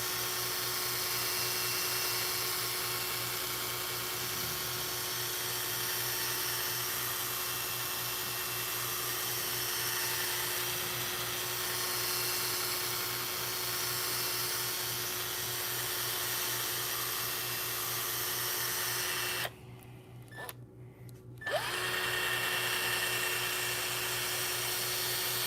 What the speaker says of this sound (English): Try not to get the edge of the buffing pad into the leading edge of the stab